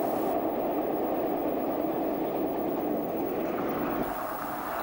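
Class 47 diesel locomotive 47707 rumbles past with its train in a steady, loud, broadband roar that holds for the whole stretch before easing slightly at the end.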